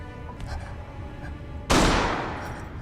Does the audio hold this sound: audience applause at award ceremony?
no